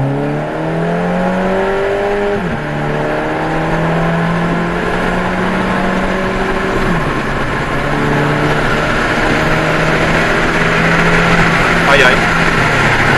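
Inside a VW Scirocco 2.0 TFSI with DSG gearbox on a motorway: steady engine drone with gear-shift pitch changes and broad road and wind rumble, while someone talks over it.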